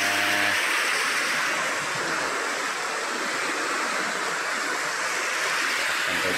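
Cold water flowing steadily in a stream, a continuous broadband rush that stays close and constant from start to end with no voices.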